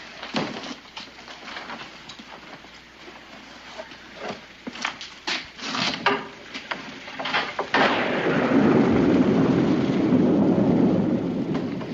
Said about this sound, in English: the rain ain't let up none yet